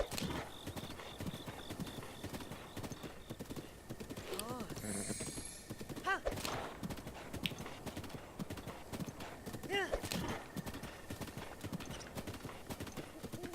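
Horse hooves clip-clop steadily in The Legend of Zelda: Breath of the Wild, Master Mode in Akkala, a rapid continuous galloping rhythm with a brief whinny partway through, under a person talking.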